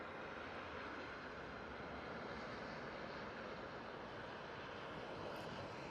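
Jet airliner departing Manchester Airport, a steady broadband engine roar heard at a distance, faint and continuous with no voices.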